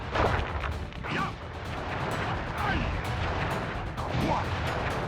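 Fireworks attack in the video game Sly Cooper, dense rumbling bursts and crackling blasts rolling continuously, loud and close, with talk and game voices over the explosions.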